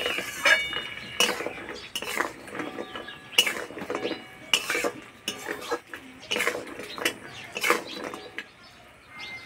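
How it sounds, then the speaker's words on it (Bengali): A utensil stirs fried khasta goja, sweets of flour and sugar, through melted sugar in a pan, giving repeated close metallic clinks and scrapes in an uneven rhythm with a soft sizzle beneath. "এইভাবে কিছুক্ষণ নাড়াচাড়া করে নেব।"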